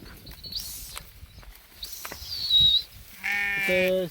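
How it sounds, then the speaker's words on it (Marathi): Grazing sheep bleat a few times nearby over a quiet outdoor background, the last bleat long and wavering. "इकडं अशा हे मेंढ्या लागल्या त्या चरायला"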